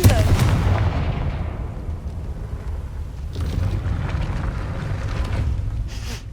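In the Hogwarts Legacy video game, a Confringo explosive fire spell goes off with a loud blast that fades into a rumbling decay, and a second, softer burst follows a few seconds later.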